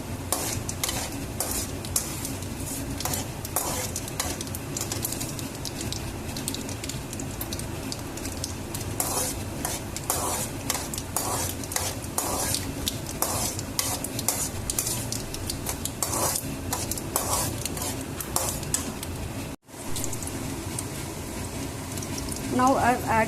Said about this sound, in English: Now after adding the curry leaves and the ginger, I'm going to stir it